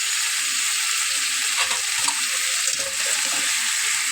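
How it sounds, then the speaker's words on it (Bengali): Goat head curry masala with dry chili powder fries in a pan, giving a loud, steady hiss of sizzling oil with faint stirring scrapes throughout. "এটাকে ভালোভাবে কষিয়ে নেব।"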